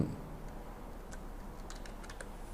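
Keys tapped on a computer keyboard to enter a variable name, a short run of light, fairly quiet clicks over steady room hiss, with no talking.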